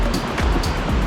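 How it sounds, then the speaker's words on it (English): Sea waves break over rocks on the coast with a steady, loud rushing wash and soft repeated surges, no voices. "you can see those waves breaking over there"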